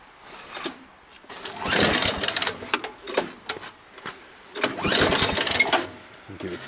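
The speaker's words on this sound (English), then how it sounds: "Start the motor." The engine of a homemade band saw mill cranks and sputters in uneven bursts, turning over several times with rough mechanical clatter, louder in two main surges, while a voice speaks over it.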